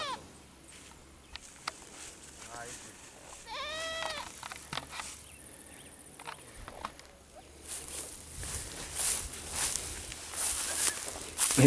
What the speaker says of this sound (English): That's a nice looking goat right there.